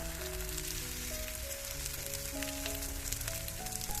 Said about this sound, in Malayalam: ഇനി ഇത് മീഡിയം ഫ്ലെയിമിൽ വെച്ചിട്ട് ഒരു സൈഡൊന്ന് വാട്ടിയെടുത്തതിന് ശേഷം പിന്നെ തിരിച്ചിട്ട് കൊടുത്തിട്ട് മറ്റേ ഭാഗം ഒന്ന് വാട്ടിയെടുക്കുക